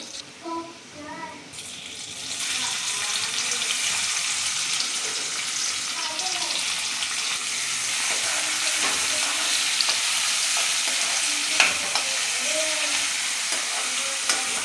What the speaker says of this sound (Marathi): तर आपण लसूण फोडणीला घातलेलं आहे आणि मोहरी